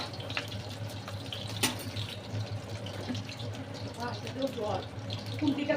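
Tap water runs steadily while a metal spatula is rinsed in a kitchen sink, a soft continuous splashing with brief clinks, close by under background kitchen noise.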